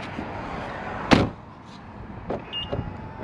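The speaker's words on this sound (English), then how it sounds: "All right, so mirror folds, car's locked." A sharp thump sounds as a BMW X3 M40i is locked, followed by quieter whirring motor noises as its side mirrors fold in, close by and without talking.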